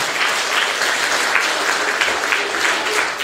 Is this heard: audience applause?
yes